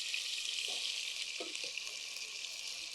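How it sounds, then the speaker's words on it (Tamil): Spices fry gently in hot oil for a broad bean biryani, a soft continuous bright sizzle, steady and close but quiet, with a few faint low knocks. "அந்த எண்ணெயில் லேசாக பொரியுது பாருங்கள்"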